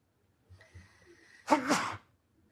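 A single sharp sneeze bursts out loudly from a player at a tabletop role-playing game session after a moment of quiet room noise, with faint background sounds before it.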